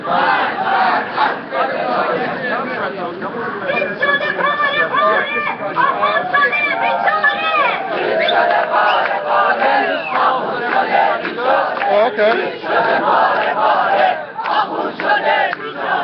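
A crowd of demonstrators at a street protest against Ahmadinejad in New York City, loud continuous chanting and shouting close by, with overlapping voices and speech mixed in throughout.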